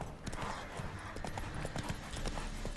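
Horse hooves clip-clopping at a steady riding pace in The Witcher 3, a continuous rhythmic trot close up with light game ambience and faint talk underneath.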